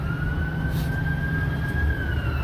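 An ambulance siren on a Los Angeles street during a protest: a steady wailing tone holding nearly level over low traffic rumble, moderately loud and distant.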